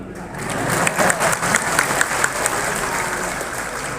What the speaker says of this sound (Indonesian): silakan kamu tepuk tangan.